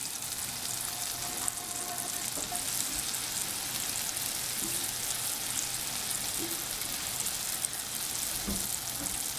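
Salmon sizzling in a pan over medium-high heat, a steady soft crackle and hiss with occasional small pops, continuous and fairly quiet.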